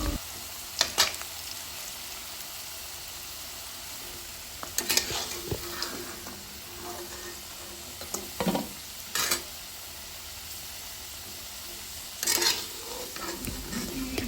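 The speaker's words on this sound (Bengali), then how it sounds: "নেটে চেড়ে আলু আমি ভালোভাবে ভেজে নিচ্ছি" Oil sizzles steadily as potatoes fry for egg khichuri, with occasional scraping and stirring clatters of a utensil against the pan.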